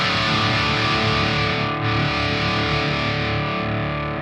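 High-gain electric guitar through an Axe-Fx III modeling a Splawn Quickrod amp, a dense distorted chord held and re-struck once, loud and saturated, played alone with no talk.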